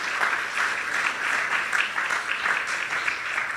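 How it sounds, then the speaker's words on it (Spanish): Church congregation applauding steadily for two women at a sermon, a dense even wash of clapping from many hands that holds for the whole stretch without voices over it. "Usted le puede dar un fuerte aplauso a Andrea y a Guadalupe"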